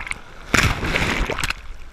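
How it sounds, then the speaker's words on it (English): On Tybee Island beach, six-foot waves whipped up by Hurricane Arthur break and splash, giving a loud, sustained wash of churning water that swells in the middle of the clip. "6-foot waves crashed onto Tybee Island's beach Thursday."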